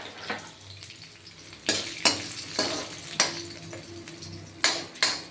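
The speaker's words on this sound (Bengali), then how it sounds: "তেলে পাঁচফোড়ন দেব। আর দেখুন কাঁচা লঙ্কা আর কয়েকটা বড়ি দিয়ে দেবো। এটা ভাজা ভাজা হবে।" Bori lentil dumplings and green chilies fry with panch phoron in hot oil, making a constant sizzle broken by several sharp scrapes and clinks of a spatula against the pan at irregular intervals.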